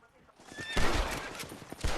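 A horse whinnies as the rider mounts in Red Dead Redemption, a loud close neigh that breaks into a burst of rapid gunfire and hoof noise.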